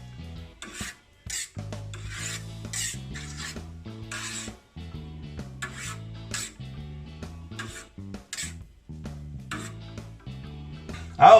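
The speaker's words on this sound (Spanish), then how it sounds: "Ya cortado en tiras, vamos a cortar ahora en el otro sentido." Knife slicing through fresh cheese curd in a vat, cutting the strips crosswise into sticks, gives a run of soft, wet rasping strokes in a steady rhythm, close by, over a background of tonal music.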